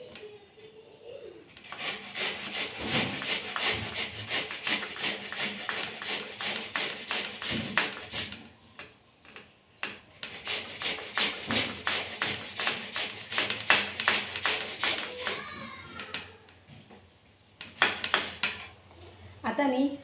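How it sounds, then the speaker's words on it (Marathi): Carrots are grated by hand on a metal grater for carrot halwa in a home kitchen, giving quick, steady rasping strokes in long rhythmic runs with brief pauses between. "आता आपल्याला ह्या साईडून किसून घ्यायचं आहे अशा पद्धतीने."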